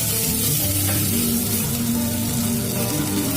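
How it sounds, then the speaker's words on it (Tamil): Crushed onion and dried red chillies frying in a pan, a loud, dense and unbroken sizzle heard up close with no voices. "வெங்காயம் தட்டினது சேர்த்து நல்லா கலக்கி கிளறலாம்"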